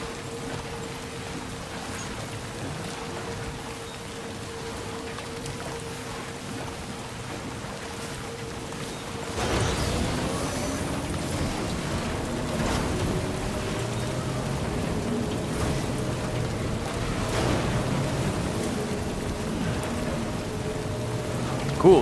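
Timefall rain pours in the video game Death Stranding 2, a steady hiss of rain on surfaces for the whole stretch. Low tones hum underneath and grow fuller partway through.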